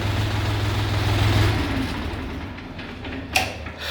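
A Xingtai 244 tractor's diesel engine rumbles steadily at idle, then is shut off and the low drone dies away into near quiet, followed by a single faint click.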